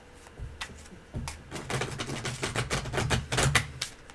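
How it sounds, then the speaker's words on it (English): A stiff deck of large tarot cards is shuffled, giving a series of sharp, irregular riffling clicks and flutters, close and fairly quiet, with no talking. "Now this deck is pretty stiff too, and they're big, but I can shuffle them pretty good."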